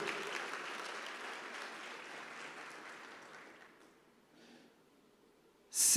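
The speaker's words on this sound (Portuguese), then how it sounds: "Você pode aplaudir o Senhor?" A church congregation claps for the Lord during a Portuguese-language service, a dense wash of applause that gradually fades to near silence, ending with a sudden loud burst.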